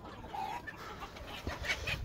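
Farmyard chickens clucking as a rooster chases a hen, short soft clucks and squawks scattered over two seconds, faint and fairly close, with no talk.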